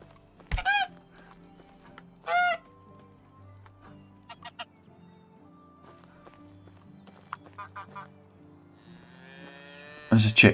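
Farm animals in the medieval farming game Medieval Dynasty: two sharp, honking squawks near the start, a few brief clucks midway, then a louder burst of bird calls at the very end, over a low, steady background of ambient game noise.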